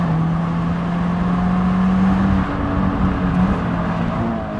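A Subaru BRZ sports car engine drones steadily at high revs, loud and close, its pitch holding then shifting slightly as it keeps accelerating hard on a short, tight track.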